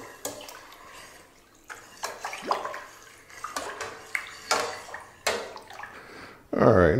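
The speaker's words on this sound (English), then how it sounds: "Let's go ahead and stir that in" Sugar stirred into nectarine wine liquid, a series of sloshing, swirling water sounds with soft knocks against the vessel, close and moderately loud, ending in a louder splash.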